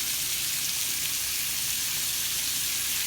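Steak frying in butter with thyme and garlic gives a steady, bright sizzle that stays even and close throughout, with no talking.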